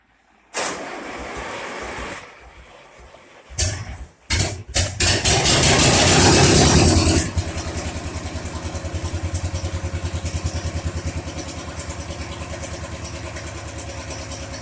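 A Shenniu motorcycle with a straight pipe exhaust starts after a few cranks, revs loud and hard for a few seconds, then settles into a steady, throbbing idle close to the microphone.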